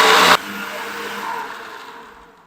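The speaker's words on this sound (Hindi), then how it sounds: "इसको आपने 3 से 4 मिनट तक ग्राइंडर को अच्छी तरह चलाना है, फिर ये अच्छी तरह फाइन पेस्ट बनेगी इसकी" An electric kitchen grinder, pulverising soaked moong dal into a fine paste for mathri snacks, roars loudly for a moment, then cuts off and whirs down in a fading spin.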